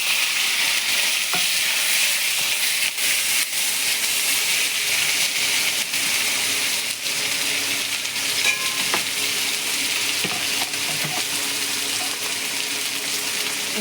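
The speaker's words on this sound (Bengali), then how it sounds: "এখন এগুলি দিয়ে কড়াইয়ের মধ্যে মশলাটা একটু ভাজা নিব" Ground coriander and cumin pastes fry with tomato and green chili in a wok, giving a steady, even sizzle that holds at close range throughout, with scattered light stirring clicks on top.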